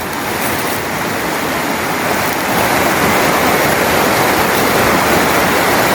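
Water flows and splashes continuously, a loud dense rushing wash with no pauses.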